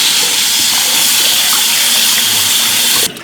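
Hot tap water blasts steadily and loudly into a pot being rinsed out in a sink, a dense continuous hiss and splash that cuts off abruptly at the end.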